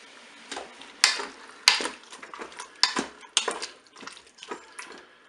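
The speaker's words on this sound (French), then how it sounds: "je mélange." Utensil scraping and clanking against a Cookeo pot while red beans and peeled tomatoes are stirred in, a steady run of close, fairly loud knocks and scrapes with no talk.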